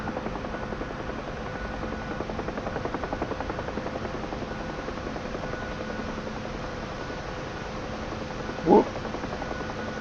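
Huey helicopter flying in the DCS flight simulator game, a steady rotor drone with continuous turbine whine throughout, and a short spoken exclamation near the end.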